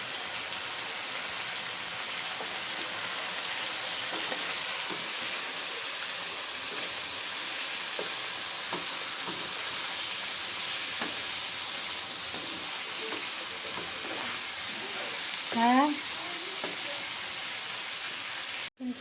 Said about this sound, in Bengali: তো পটল আলু ভাজা হয়ে গেছে